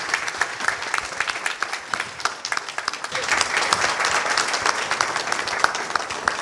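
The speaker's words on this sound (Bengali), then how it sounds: "সবাই জোরে করতালি দিই আমরা।" Sustained applause from an audience at an anniversary celebration for a Bangladeshi TV news channel, dense steady clapping filling the room at fairly close range with individual claps standing out, swelling slightly in the second half, no speech.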